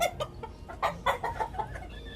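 Chickens, hens and roosters together, cluck repeatedly in a coop whose roof has been taken down, a steady run of near, moderately loud calls.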